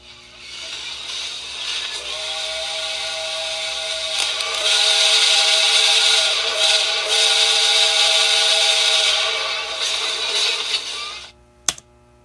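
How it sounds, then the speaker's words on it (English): A recording of a real steam whistle plays over a small speaker, a loud sustained shrill blast held for about nine seconds, then cut off abruptly, followed by a short click. "that is a real steam whistle sound"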